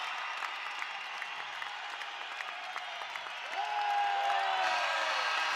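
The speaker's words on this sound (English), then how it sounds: "Listen to this crowd." A college basketball arena crowd applauds and cheers in a steady, dense wash. The noise swells louder toward the end of the stretch.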